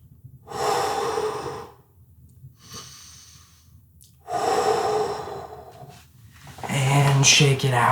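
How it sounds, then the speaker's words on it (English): During a karate class stretch, children breathe in long audible exhales and inhales, several strong breaths rising and falling in slow waves, with some voices near the end. "Make sure you're still breathing."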